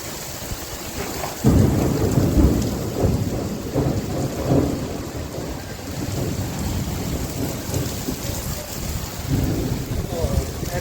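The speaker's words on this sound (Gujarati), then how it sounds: "વરસાદ ગાજરી એવો વીજળીનો અવાજ એટલો આવે છે" A loud rumble of thunder breaks in and rolls on over steady, heavy summer rain, with a second swell of thunder later.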